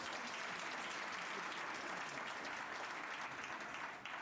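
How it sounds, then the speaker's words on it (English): Dense, sustained clapping from an audience at a South African Microsoft investment event holds at an even level throughout, distant and fairly quiet, with no one speaking over it. "you can applaud again, a round of applause"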